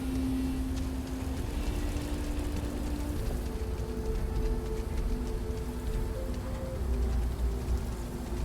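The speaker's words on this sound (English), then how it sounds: "Comes the rain again." Steady rain hisses down across an old, run-down stone location in the game Starfield, a constant wash of drops on surfaces with faint tonal game sounds underneath, close and even throughout with no voices.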